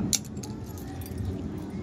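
Keys jangle at a padlock being opened, a short bright jingle near the start, then a low, steady background hum for the rest of the moment.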